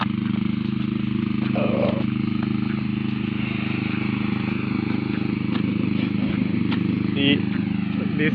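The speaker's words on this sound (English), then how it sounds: "This beautiful tractor cut the grass." A tractor mower cuts grass on a golf course, its engine a steady, continuous drone heard from some distance beneath someone talking.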